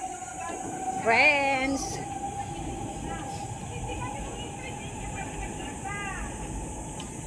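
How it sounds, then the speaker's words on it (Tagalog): A train passes at Tampines, Singapore, as a steady rail rumble and hiss at moderate distance, with people talking over it and a brief voice near the start. "Dito yung train."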